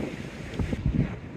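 Wind buffets the microphone on a blustery, cool seaside walk at Teignmouth, a brief low rumbling gusty roar without talk.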